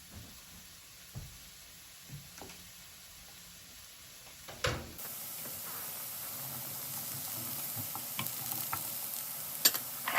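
Sweet potatoes and carrots cook in a pan with a gentle sizzle. The sizzle is quiet and sparse at first, then becomes a steady, louder frying hiss after a few seconds, with occasional soft clicks and stirring knocks.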